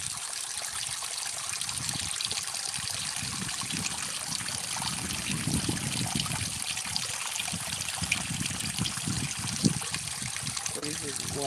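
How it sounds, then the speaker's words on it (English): Water trickling naturally down a mountainside, a steady broadband rush with small splashes, heard close and continuous throughout with faint background sounds mixed in. "So this is water coming naturally down the mountain."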